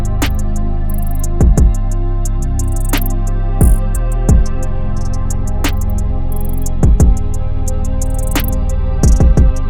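An R&B beat plays steadily, with sustained tonal layers over deep sliding bass drops and crisp percussion hits recurring every second or two, loud and without voices.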